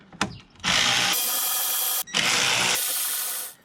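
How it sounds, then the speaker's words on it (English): Power tool, likely a cordless drill or impact driver, whirring in two loud sustained bursts close up while removing bolts during spark plug work on a BMW E87 130i with an N52 engine, no talk. "Remove the bolts."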